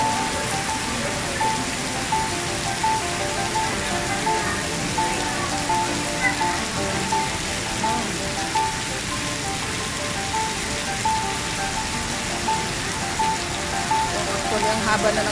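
A heavy downpour at Singapore's National Stadium keeps up an unbroken roar of rain striking the ground and structures, loud and even throughout, with faint talk underneath.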